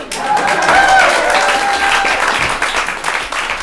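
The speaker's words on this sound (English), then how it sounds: "Yeah, give that a round of applause." Audience applause at a summer intensive showcase performance, a dense sustained wash of many hands clapping at a steady loud level, with a brief melodic tone or voice drifting over it early on.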